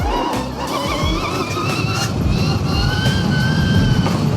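A 2025 Arctic Leopard XE Pro S electric bike runs under a rider doing wheelies, giving a continuous whirring drone with rising tonal whine and tire noise, fairly loud and close, without speech.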